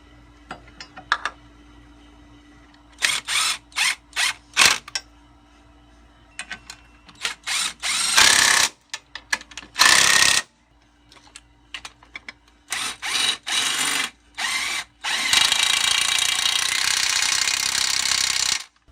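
A ratchet tightening bolts on the side transmission bracket during an automatic-to-manual swap on a 1996-2000 Honda Civic, with bursts of quick close clicking separated by pauses, ending in a longer steady run of rapid ratcheting and no talking.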